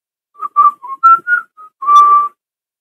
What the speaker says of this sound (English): This is me whistling.